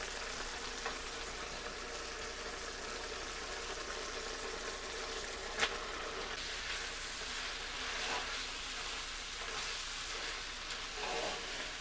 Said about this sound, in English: So I'm just gonna let this simmer for a little while.